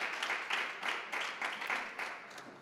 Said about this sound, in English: Can we give one more round of applause for all of our honorees tonight?